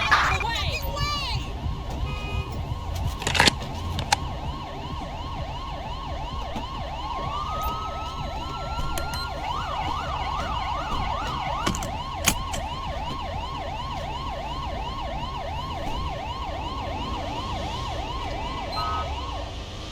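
An ambulance siren wails in GTA V with the LSPDFR police mod, its rising and falling cycles repeating steadily for the whole stretch at moderate volume over background game noise.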